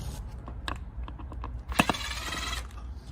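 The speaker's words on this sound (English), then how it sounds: "It's just a matter of removing a whole bunch of screws." Screws being backed out of a Cateye Silverado headlight housing produce scattered small clicks and taps, then a sharp knock followed by a short rapid ratcheting whirr, close and quiet.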